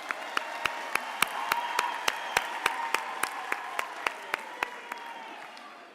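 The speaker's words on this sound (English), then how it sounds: "let us give them a huge round of applause" A graduation audience at the DUT spring ceremony applauds the university staff, steady sustained clapping from a large crowd in a hall, with a few distinct louder claps punctuating the even roar throughout.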